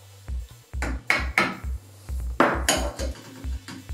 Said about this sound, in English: I took chisel and hammer and just started chiseling it out